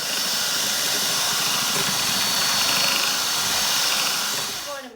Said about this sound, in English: we're gonna use our mixer on low to just beat this together